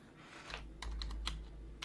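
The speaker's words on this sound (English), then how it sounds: "Somebody's typing. Oh, that was me. Sorry, that was my keyboard." Computer keyboard typing, a short burst of clicky keystrokes in irregular rhythm over a low steady hum, fairly faint and close, with no talking.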